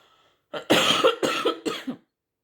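A burst of three or four harsh coughs in quick succession from a nearby person, loud against a quiet room, ending abruptly.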